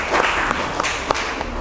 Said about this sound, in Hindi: एक बार जोरदार तालियां हो जाए हर्षवर्धन के लिए।